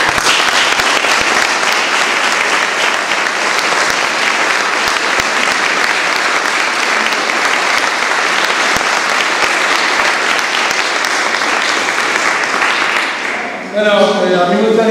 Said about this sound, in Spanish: para la cual pido un fuerte aplauso